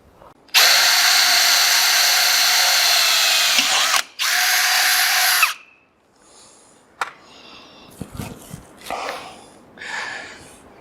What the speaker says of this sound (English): We're going to go ahead and drill a hole right here, and that'll hold our spring in place when not in use.